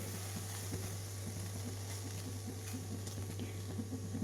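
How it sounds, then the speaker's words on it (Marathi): Tulsi leaves dry-roasting in a pan over a low gas flame give a soft, continuous crackle and faint sizzle over a steady low hum, without voices. "मी ही तुळशीची पानं अशी कडक करून घेणार आहे"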